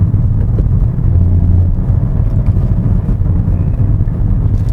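Hyundai Kona N in sport mode, its engine and exhaust giving a steady, loud low rumble heard from inside the cabin, with no speech.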